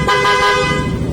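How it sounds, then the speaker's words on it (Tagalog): Stock horn of a Yamaha Aerox V2 scooter giving one loud, steady honk that holds for about half a second and then trails off into low engine rumble. "Stock horn."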